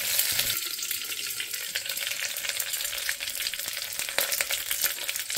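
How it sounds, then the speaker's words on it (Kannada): Curry leaves sizzle steadily in hot oil as a seasoning for a drumstick sambar, a loud, dense frying crackle with occasional stirring scrapes and no voices. "ಈಗ ಕರಿಬೇವು ಹಾಕ್ತಾ ಇದ್ದೀನಿ."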